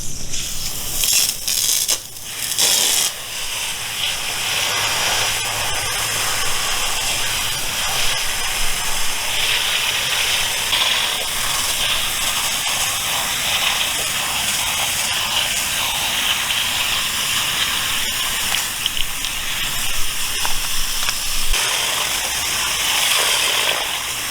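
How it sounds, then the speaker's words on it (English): A garden hose fitted with a cleaning nozzle sprays water onto a pool cartridge filter, making a loud, steady, close hissing rush that continues without a break, with a few bumps near the start. "Now you want to connect the included nozzle to your garden hose"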